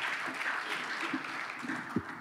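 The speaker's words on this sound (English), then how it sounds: "Warm hand of applause for Julia" A conference audience at a Monday afternoon session clapping steadily in a soft, even patter to welcome a speaker, heard from a distance.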